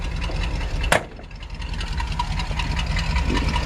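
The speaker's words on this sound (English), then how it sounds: "Perfect sounding engine." A 1964 Chevrolet C-10 pickup truck engine idles steadily with a low, even rumble, and a single sharp knock cuts through near the start.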